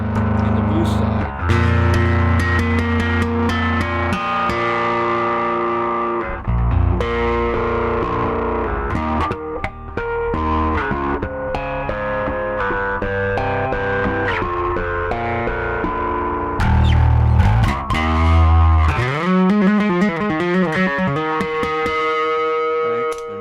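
An electric guitar played through a Suncoast BC3XL pedalboard with heavy distortion and grinding gain rings out in loud, sustained chords and riffs, with several abrupt stops and restarts and a pitch-sweeping effect near the end.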